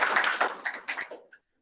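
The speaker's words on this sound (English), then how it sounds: "Let's give him a clap." A small audience of design students claps for a guest speaker, a brief, dense patter of hands that thins out and stops within about a second and a half.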